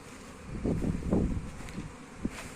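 Steady low drone of honeybees working inside a hive box with seven-frame bodies, a continuous buzzing hum swelling slightly and fading, close and moderately loud with no talk.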